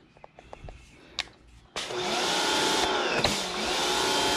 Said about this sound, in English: it's an electric pressure washer, so you don't need to worry about gas or anything. Just turn it on, there's pressurized.